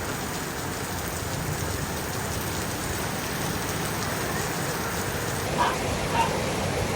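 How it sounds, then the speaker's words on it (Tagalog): Steady rain pours down with an even, constant hiss, loud and close; a couple of faint vocal sounds surface near the end. "Ulan yan. That's rain."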